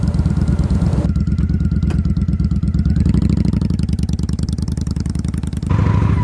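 A motorcycle engine runs steadily and close by, its rapid pulsing exhaust loud and unbroken, as it rides along the old red brick road of Milton, Florida.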